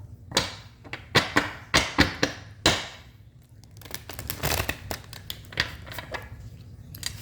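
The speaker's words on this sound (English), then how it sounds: "This is my 5th shuffle" A tarot deck is shuffled by hand, a run of crisp card riffles and slaps in quick bursts, then a denser stretch of rustling flicks, close and fairly quiet with no talk.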